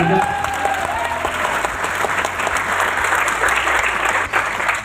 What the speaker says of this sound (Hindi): एक बार तालियां बजा लीजिए